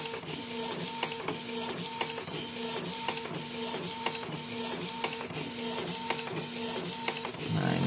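A Canon inkjet printer, modified and loaded with art paper ink, prints onto DTF film with steady, repetitive mechanical whirring and rhythmic clicks as the print head shuttles back and forth, close and continuous.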